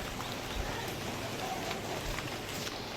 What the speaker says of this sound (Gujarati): અત્યારે વરસાદ વરસે છે, અને વરસાદ વધતો જ જાય છે